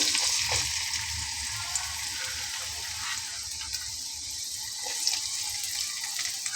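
Four coarsely chopped onions frying in soybean oil for a Bengali fish curry give off a steady, even sizzle. The hiss runs unbroken from start to finish, with nobody talking.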